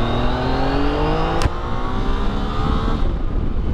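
A Yamaha motorcycle with the MT-09's engine accelerates, a loud close engine note rising in pitch through the revs, with a brief sharp click partway through and no talking.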